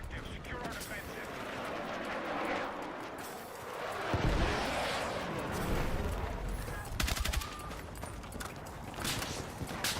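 Sniper gunfire in a multiplayer shooter video game, with loud repeated shots and crackling bursts that mix with heavy battle noise over about ten seconds, plus a few sharper reports later on.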